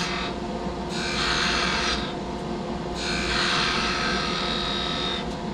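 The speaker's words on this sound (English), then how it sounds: "Paring cut across the ends of the fibers." A skew chisel pares across the end grain of a turned wooden handle on a lathe, giving two or three short, dry rasping scrapes over a steady motor hum.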